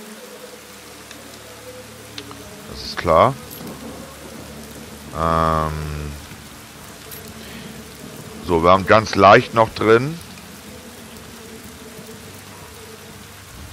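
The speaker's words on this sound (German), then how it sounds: "Es regnet." Rain pattering steadily through a motorcycle race in the video game Ride 3, a constant even wash from start to end, with someone speaking German in short bursts over it.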